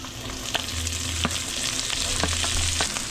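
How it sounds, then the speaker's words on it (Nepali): Onions sizzling and frying in a pan on top of cumin and garlic for a yellow gravy, a steady close crackle with a few brief stirring scrapes. "फेरि हाल्दैछु प्याज."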